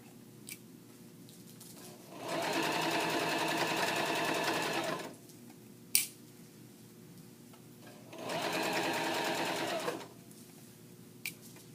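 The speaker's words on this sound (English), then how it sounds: "you're going to go back and serge the layers together anyway" Serger stitching knit cuff layers together, two steady motorized bursts of about three and two seconds, loud and close, with quiet pauses and small clicks between.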